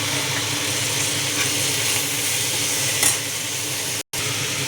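Continuous loud sizzling of tomatoes cooking in hot oil with fried onions for restaurant-style onion chutney, a steady frying hiss with a light stirring scrape, briefly cut off near the end.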